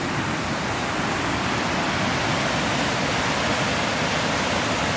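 Rushing water from rivers and waterfalls forms a steady, loud, unbroken roar that fills the whole stretch with dense broadband noise and no pauses.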